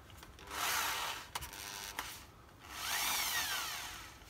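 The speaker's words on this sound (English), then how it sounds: "countersink, so that's what I'm going to do now." A countersink bit in a power drill cuts a hole into a Porsche sports exhaust (PSE) during an overhaul, giving two loud grinding bursts of a few seconds each. Sharp clicks and a short scrape fall between them.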